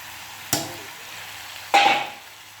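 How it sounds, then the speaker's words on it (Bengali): Catla fish heads stirred in a hot pan give off two short scraping sizzle bursts. The second burst is louder and trails off, with a quiet gap between them. "এই কাতল মাছের মাথায় সব নাড়াচাড়া দিয়ে নেব, একটু কষিয়ে নাড়াচাড়া দিয়ে"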